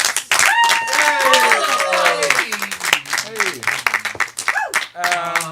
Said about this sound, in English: Yes, let's start a slow clap.